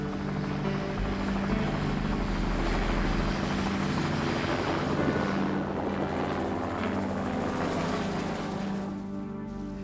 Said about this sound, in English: Mayday, Mayday, this is VJP. I'm requesting helicopter.